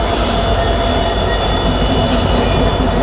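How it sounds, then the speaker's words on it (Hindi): A goods train fitted with twin CMT locomotives rumbles past alongside a passenger train arriving at Ambala Cantt, a loud, steady roar of rolling wheels with high squealing tones, heard up close from onboard with no speech. "है तो मालगाड़ी सामने चल रही है लेकिन ट्विन CMT लगे हुए हैं इसमें।"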